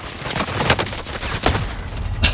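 Gunfire in Warzone, the battle royale video game: scattered shots and a few sharp, loud cracks at irregular intervals against steady background noise, with no talking.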